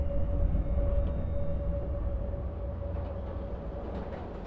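London Underground train nearing Holborn Station, a steady low rumble with a faint high whine from the carriage, moderately quiet and continuous, no voices.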